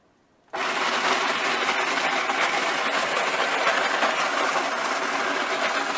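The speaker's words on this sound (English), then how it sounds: "Here you can see it's shaving the ice and filling the ice into the container." A Margaritaville Bahamas frozen concoction maker shaves ice into its container with a loud, steady, grinding motor whir that starts abruptly after a brief quiet moment and runs continuously close by.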